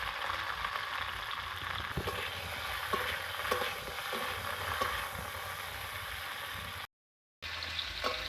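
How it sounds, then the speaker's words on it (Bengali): Salted cauliflower pieces fried in a pan until browned, giving a soft, even sizzle that holds steady throughout, with a brief dropout near the end and no speech. "আমি লাল করে ভেজে নেব ফুলকপিটাকে।"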